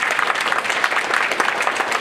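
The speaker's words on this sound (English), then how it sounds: "let's give Alyssa, Jim another round of applause." Listeners at a talk on lobby meetings give a round of applause, a loud, close, continuous patter of many hands clapping without pause.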